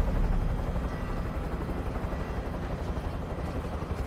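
Helicopter rotor thudding steadily and close in the Warzone Mobile video game, a dense low rumbling chop that holds throughout without any talking.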